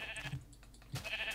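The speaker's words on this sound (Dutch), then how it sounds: "Ik heb hier schapen, Sam." Sheep bleating in the Minecraft video game, two or three short nasal bleats spaced apart that sound close and clear.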